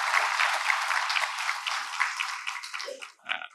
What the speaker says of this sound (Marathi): त्यांच्याकरता टाळ्या वाजवा.